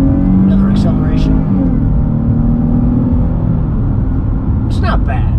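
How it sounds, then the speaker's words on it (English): A 2022 Chrysler 300 S pulls away with a steady low engine drone and road rumble from inside the cabin, holding a continuous mid-level tone throughout. "Another acceleration."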